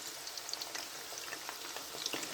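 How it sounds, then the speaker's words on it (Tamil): Spicy honey chicken pieces coated in South Indian spice masala frying in hot oil, a steady close crackling sizzle with scattered sharp pops, continuous and alone without any voices. "அந்த சிக்கன் வந்து நல்லா பொரிஞ்சிக்கிட்டு இருக்குது"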